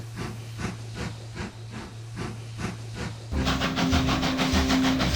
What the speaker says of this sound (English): the little engine slipped out of the station